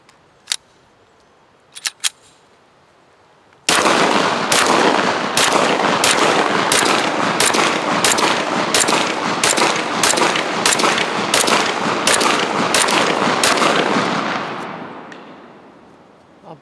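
A long rapid string of North Forest Arms pistol gunshots, about fifteen loud sharp reports fired in steady rhythm after a few isolated earlier shots, then a fading ring-out.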